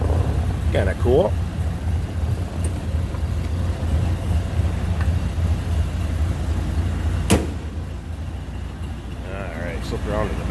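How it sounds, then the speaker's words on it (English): A 1928 Ford Model A Roadster Pickup engine idles with a steady, low, even rumble throughout, with brief bits of speech over it and a single sharp clack partway through. "You hear how smooth that purrs."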